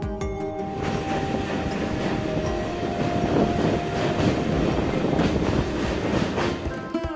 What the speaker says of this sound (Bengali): কাশিমবাজার স্টেশন থেকে সকাল 8টায় ট্রেন ছাড়লো।